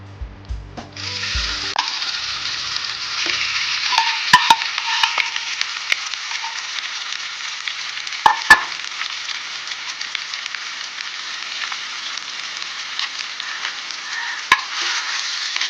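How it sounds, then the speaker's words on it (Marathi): Mashed raw banana fries in ghee in a kadhai on a gas stove, giving a steady, bright sizzle for the whole stretch, with scraping stirs and a few sharp metallic clinks of the spoon against the pan. "केळी तुपावरती छान परतून घ्यायची"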